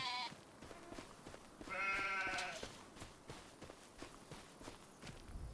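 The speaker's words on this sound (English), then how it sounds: "I am putting sheep into them" Sheep bleat in a farming simulator game, with two clear bleats from nearby animals, the second longer and louder, over soft repeated footstep-like thumps.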